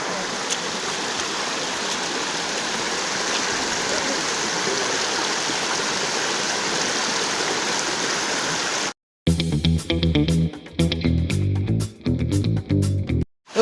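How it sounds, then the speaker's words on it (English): Warm spring water at Ikogosi in Ekiti State, Nigeria, pours from channels in the rock beneath the site, making a steady close rushing flow that is suddenly cut off near the end by loud music. "There's a big rock under this place that created channels, openings for warm water to come out."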